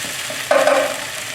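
Spicy Chinese curry fried rice being stir-fried: a low frying hiss swells into a louder sizzle about halfway through, then holds steady and close with no talking.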